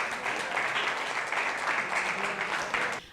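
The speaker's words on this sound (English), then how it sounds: "Can we have a big round of applause for Schools Week for the support?" An audience at a community film screening claps in a big round of applause, a dense, steady burst of hands from a roomful of people that stops abruptly near the end.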